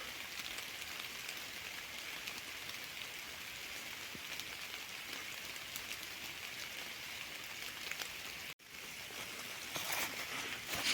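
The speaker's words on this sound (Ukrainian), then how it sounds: "Дощ крапотить." Steady soft rain pattering on leaves and ground in a birch forest in the Kyiv region, a continuous even hiss of drops with a brief gap near the end.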